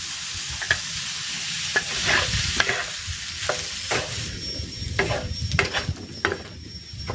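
Cooked rice is stir-fried in a hot pan with mixed vegetables for chicken fried rice, a constant sizzle punctuated by frequent scraping and tossing strokes of a spatula, close and without talk.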